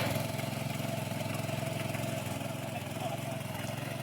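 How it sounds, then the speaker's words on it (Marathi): A tractor engine runs steadily in a flooded paddy field during rice transplanting, a continuous mid-pitched chugging drone at moderate distance with no speech. "मेरेला सुद्धा व्यवस्थित जातो ट्रॅक्टर."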